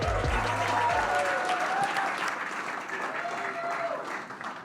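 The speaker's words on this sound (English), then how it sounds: "let's have a round of applause for Underground App" Audience at a startup pitch event welcomes the next presenter with a short burst of applause, loud at first and gradually thinning over a few seconds while a voice briefly speaks at the start.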